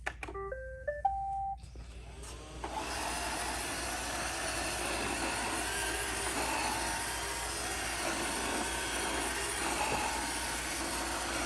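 A Roomba 692 robot vacuum is switched on at floor level. A few rising start-up beeps play first, and then the steady whirring roar of its motor and brushes runs close and continuously.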